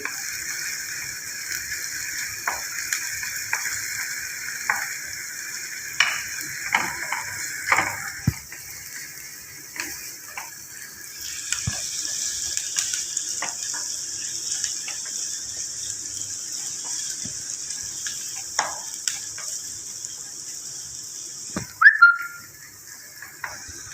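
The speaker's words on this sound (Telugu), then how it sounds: "ఆనియన్స్ కొంచెం వేగాయండి" Onions frying in a pan for Rayalaseema uggani give off a steady, moderate sizzle with scattered crackles and utensil clicks, ending in a brief louder clatter near the close.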